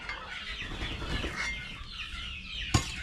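A chicken clucks softly close by, with a sharp knock or flutter near the end; faint background murmur throughout, outdoors in a Philippine rural yard.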